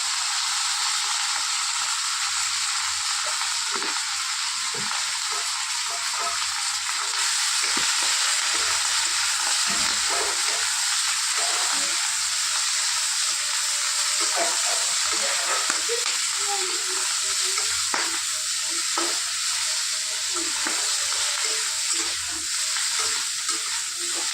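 Cauliflower frying with turmeric powder makes a loud, continuous sizzle and hiss close by, with intermittent scraping and stirring knocks throughout and no one speaking.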